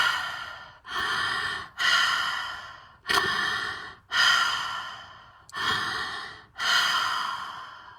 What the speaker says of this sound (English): And they're breathing like that.